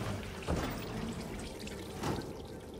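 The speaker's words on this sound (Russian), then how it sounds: "Бутыль с водой." A water bottle pouring in the video game Hitman 3, set in Romania: a steady, noisy liquid rush with two brief surges in intensity, heard alone without speech.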